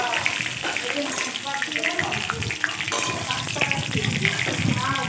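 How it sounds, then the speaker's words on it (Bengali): Hilsa fish heads fry in hot oil in a pan, a busy crackling sizzle with sharp spits and pops, fairly close and continuous, with a bit of background noise. "এখানে মাথাগুলো আমার প্রায় ভাজা হয়েই এসছে"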